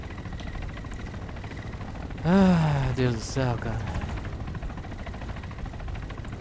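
A helicopter in the ARMA 3 video game drones steadily with a low, constant rotor hum, heard throughout while a man briefly exclaims over it.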